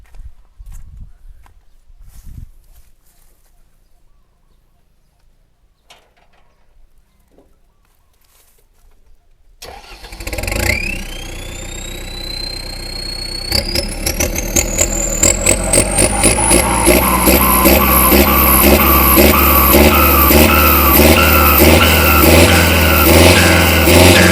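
A turbocharged car engine with a 3-inch exhaust fires up after quiet, then idles and revs repeatedly, growing louder and steadier, close and alone.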